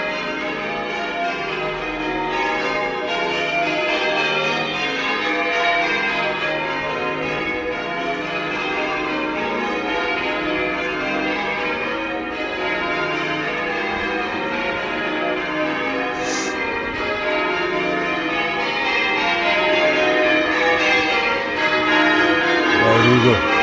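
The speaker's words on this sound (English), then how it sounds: "The bells are driving me nuts." Church bells in a Bristol city street peal continuously and fairly loudly, overlapping rings with a wash of traffic and city noise beneath.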